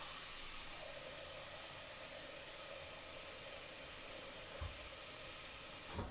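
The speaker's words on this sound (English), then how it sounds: "I'm going to use some nice tap water in here." Tap water pours steadily into a pot of rice in a home kitchen, a continuous even hiss of flow at moderate level with a couple of small clinks near the end and no talk.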